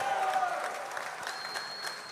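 Crowd at a Trump event applauding and cheering, a dense steady wash of clapping heard briefly and fairly loud.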